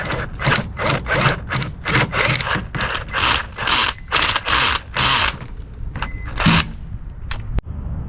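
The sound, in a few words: drilling a hole with large bit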